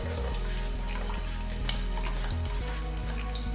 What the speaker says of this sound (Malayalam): ഇതിലേക്ക് ഞാൻ എടുത്തു വെച്ച ചോപ്പ്ഡ് ഗാർലിക് ഇട്ട് കൊടുക്കുകയാണ്.